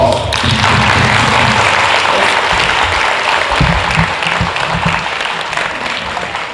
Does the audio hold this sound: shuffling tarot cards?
no